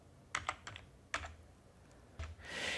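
Scattered clicks of a computer keyboard as a username and password are entered, a few quick keystrokes in small clusters with pauses between, close and fairly quiet, with no talking.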